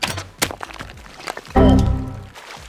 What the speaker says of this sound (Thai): มาดูกันว่าแรงขนาดไหน จะยิงเข้าหัวเลยนะ